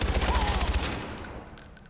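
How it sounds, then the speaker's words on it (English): Fully automatic carbine fire, an M16-style rifle in Far Cry 4, a loud rapid burst of closely spaced shots lasting under a second, then ringing off into a fading echo. "This is like a carbine. It's like an M16 fully auto."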